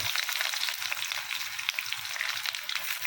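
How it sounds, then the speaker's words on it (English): Onion fries in a pan for a vegetable dish, giving a steady, dense crackling sizzle with soft stirring scrapes underneath, close and continuous, with no voices. "first I put the onion and sometimes fry"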